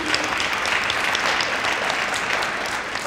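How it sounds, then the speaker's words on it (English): A crowd claps for city council candidates at the close of a League of Women Voters forum in Saginaw, giving steady, even applause that holds at full strength for a few seconds. "I think they all deserve a round of applause"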